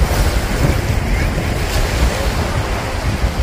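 Ocean waves wash onto a beach on the Israeli coast at the Krayot, a steady rushing surf mixed with wind buffeting the microphone, loud and continuous with no voices.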